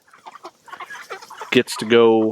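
Meat chickens let out of a pasture tractor on a farm cluck in short, close bursts, ending in a louder drawn-out squawk, while someone talks briefly over them.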